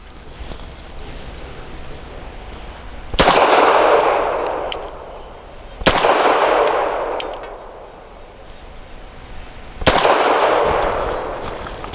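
.380 pistol fired at a range: three sharp, loud shots about three seconds apart, each with a ringing metallic decay and echo trailing off between them.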